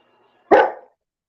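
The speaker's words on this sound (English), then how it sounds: "Stop barking." A dog gives one sharp, loud, close bark, alone and followed by silence.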